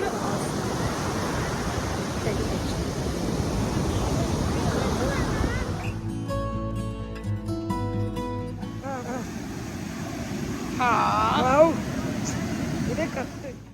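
Ocean surf rolls onto a beach at night. There is a broad, continuous roar of waves, interrupted midway by a burst of music and background voices, then the wash continues.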